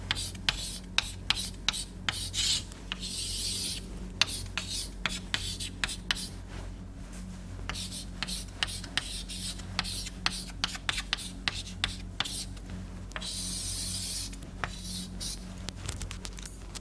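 Pen or chalk strokes writing out an equation on a board or paper, a run of quick scratchy taps and longer rubbing scrapes at close range, with no speech over them.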